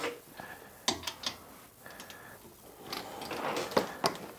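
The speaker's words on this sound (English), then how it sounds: "with the torque wrench, you just push it down until you feel the click" A torque wrench set to 81 pound-feet on a 16 mm socket during a Mini Cooper R56 brake upgrade gives a few faint sharp clicks amid quiet workshop handling noises.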